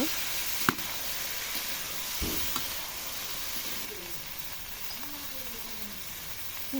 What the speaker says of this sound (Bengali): এখন এই যে সবজি দিয়ে দিচ্ছি, সবজিগুলো ভালো মতো ভেজে নেব।